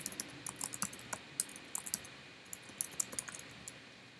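Quick, light clicks of typing on a computer keyboard as a repository name is entered, a continuous patter of close keystrokes at low volume with brief pauses.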